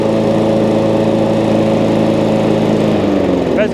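A petrol Hayter 56 Pro lawn mower with a 21-inch aluminium deck runs loud and steady up close, a constant droning hum with a slight shift in pitch near the end.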